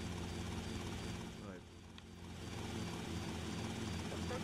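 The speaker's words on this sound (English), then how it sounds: "you can use any helicopter, even the one from the top of your mansion" A helicopter in the video game GTA Vice City Definitive Edition: a steady mechanical rotor drone with engine rumble, continuous and fairly close, dipping briefly in the middle, with a voice speaking faintly underneath.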